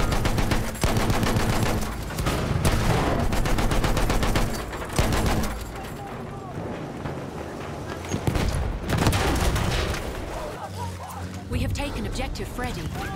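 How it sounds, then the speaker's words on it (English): Gunfire rattles in the World War I shooter game Battlefield 1. Dense bursts of rifle and machine-gun shots come near and loud, with brief lulls between, and a player talks over the fire. "I'm being shot at from somewhere"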